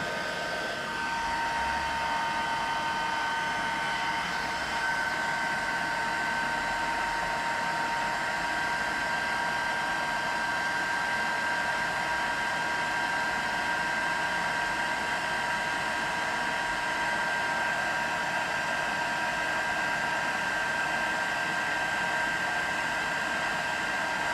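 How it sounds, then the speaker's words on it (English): A heat gun blowing hot air during papercraft cardmaking, a steady close hiss of rushing air with a thin constant whine running through it, unbroken for the whole stretch and without talk. "Heat gun, get this hot, and then we'll take it to it."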